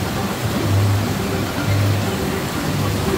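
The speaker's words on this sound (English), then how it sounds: "There's the waterfall." Waterfall at the Swiss Family Robinson Treehouse at Disneyland, a steady close wash of falling water in light rain, with faint low tones underneath.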